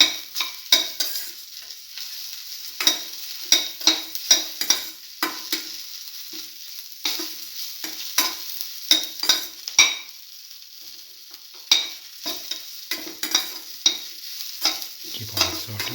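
Ginger tomato stew being sautéed in a pan, a spoon scraping and stirring in a steady, irregular rhythm over a soft sizzle, close and moderately loud with no talking.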